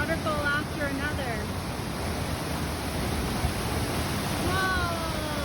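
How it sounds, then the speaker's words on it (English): Constant roaring rush of a waterfall fills the background on the Salkantay Trail to Machu Picchu, Peru, with a few voice-like tones rising briefly over it near the start and end. "One beautiful bridge and waterfall after another."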